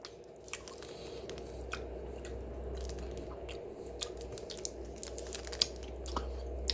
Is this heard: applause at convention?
no